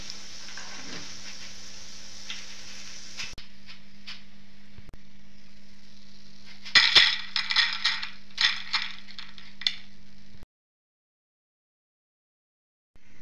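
Boondi frying in hot oil, a continuous soft sizzle with a steady hum beneath, followed by a cluster of sharp metallic clinks and rattles from a ladle before it cuts to silence.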